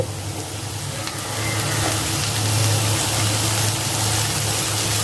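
Spice masala with salt frying for a rui fish curry with green banana, a loud continuous sizzle and hiss that swells after the first second, steady and close, with faint stirring and no speech.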